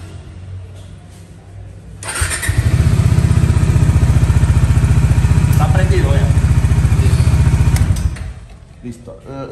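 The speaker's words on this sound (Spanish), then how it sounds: "Vamos a prender la moto." A small-displacement fuel-injected motorcycle starts up and settles into a loud, rapid idle with a steady chugging pulse close by, running for several seconds before shutting off amid quieter workshop background.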